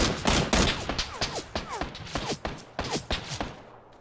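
Rapid gunfire in a shooter video game, a quick string of sharp, punchy shots in uneven bursts, loud and close, with faint game noise between the shots.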